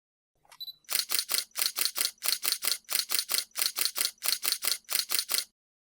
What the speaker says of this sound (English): the camera will keep on taking shots as long as the shutter button is pressed